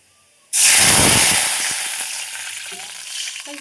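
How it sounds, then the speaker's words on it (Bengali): Tamarind water poured onto mustard seeds frying in oil, an abrupt loud burst of hissing sizzle that slowly settles into steady bubbling crackle with faint stirring clinks, close up. "সর্ষে কটা পোড়া হলেই জলটা মানে তেঁতুল টক জলটা ঢেলে দিলেই টকটা হয়ে যায়"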